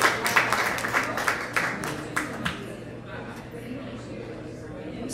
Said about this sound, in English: Give a big round of applause for James.